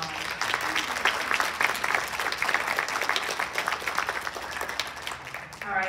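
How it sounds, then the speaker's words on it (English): A graduation audience at Charter College Wenatchee gives a sustained round of applause, dense steady clapping filling the whole stretch with a murmur of crowd underneath, easing slightly near the end. "Let's give them another round of applause."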